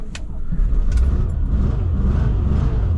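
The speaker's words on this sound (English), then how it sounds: "First time, beautiful sounding engine" A car engine starts after a night parked in sub-zero cold in Europe, then settles into a steady, loud, low idle rumble that continues throughout.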